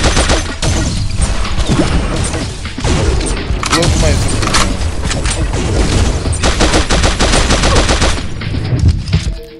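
Rapid automatic fire from the assault machine gun in the mobile shooter Pixel Gun 3D, loud continuous bursts with booms and crashes throughout, a speaking voice mixed in over the gunfire.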